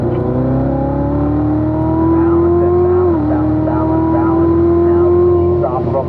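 A race car engine holds a steady, loud drone on the Spring Mountain track under light throttle, pitch climbing slowly with a brief dip midway, while a driving coach talks over it.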